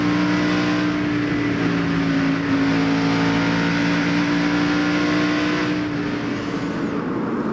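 NASCAR stock cars race at the Interstate Batteries 500 in Texas, a steady loud engine roar with a sustained tonal drone, easing slightly near the end, with no talk over it.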